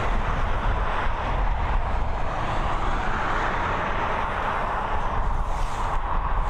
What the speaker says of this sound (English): The A330 taxiing on straight round for departure